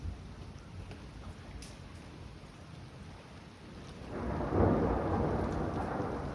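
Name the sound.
thunder from a non-tornadic thunderstorm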